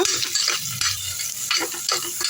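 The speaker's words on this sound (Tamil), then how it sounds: "இப்போ நல்லா வெங்காயம் வதங்கட்டும் அவ்வளோதாங்க வெங்காயம் நல்லா வதங்கிட்டேங்க" Onions sautéing in a pan for street-style vada curry, a steady close sizzle with repeated stirring scrapes and light clinks of a utensil throughout.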